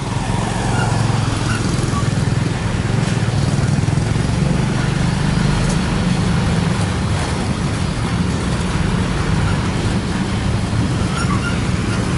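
A tuk tuk pushes through traffic in Luang Prabang while overtaking, its small engine droning loud and continuous from up close, with road rumble and wind noise constant throughout and no voices.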